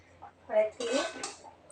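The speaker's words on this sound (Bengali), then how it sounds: "এই যে শাকটা ভাজা হয়ে গেছে এখন নামাচ্ছি" A pan of fried leafy greens is lifted off the stove with a few clanking and scraping metal knocks of pan and utensil, close by in a quiet home kitchen.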